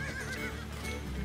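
Horses whinny repeatedly close by during an attempt to catch two big riding horses in Central Asia, their neighs rising over a steady background with faint hoof clip-clop.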